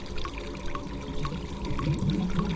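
Underwater swimming in the horror game Cry of Fear, a murky churning wash of water with soft repeated sloshing strokes, steady and fairly close, with no talking.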